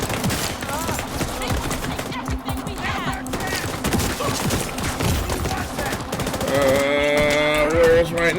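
Gunfire in The Division 2, with rapid clusters of close shots and machine-gun bursts crackling over game sound, then a brighter tonal effect near the end.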